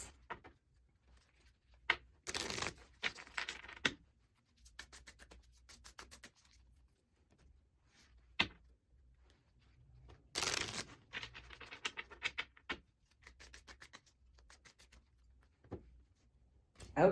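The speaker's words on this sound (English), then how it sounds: "let us get these shuffled up and we'll see what comes through for guidance" Soft shuffling and riffling of tarot cards in several separate bursts with quiet pauses between, close by; faint talk is mixed in.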